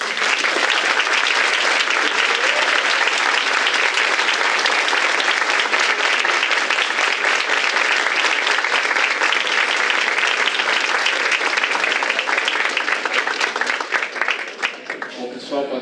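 An audience gives loud, sustained applause after the guilty verdict in a mock jury trial. The dense clapping runs unbroken for about fifteen seconds before it thins out at the very end.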